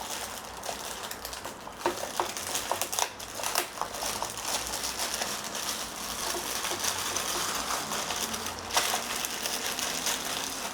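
A plastic packaging bag is unwrapped from a new Singer 4432 Heavy Duty sewing machine's accessories, giving close, continuous crinkling and crackling with sharper rustling bursts throughout, no voices.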